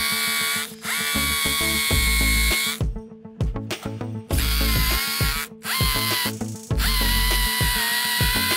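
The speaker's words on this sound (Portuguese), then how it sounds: "Essa aqui é uma broca de 5 milímetros e o ferro é de" A power drill with a 5 mm bit bores into a rotten concrete beam in close, loud bursts of high whine separated by short pauses and clicks, the motor spinning up and down several times.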